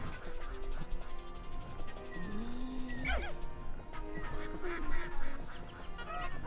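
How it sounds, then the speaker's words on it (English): Ducks quacking in the Pikmin 2 video game, a few scattered calls set back behind layered game music and ambient sounds. "Oh, you can hear ducks in the distance."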